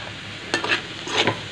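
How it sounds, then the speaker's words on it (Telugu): Shredded cabbage frying in a pan, with soft sizzling and two short bursts of scraping as it is stirred. "ఇప్పుడు కొంతసేపు మూత పెట్టేసుకుని వేయించుకుందామండి."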